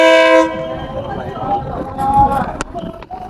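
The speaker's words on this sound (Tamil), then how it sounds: "இப்போ ட்ரெயின் அப்படியே பொறுமையா வருது." A train rolls slowly through a Thai railway market, its horn sounding briefly at the start, followed by rumbling wheels and clanks passing very close, with people's voices and market bustle around it.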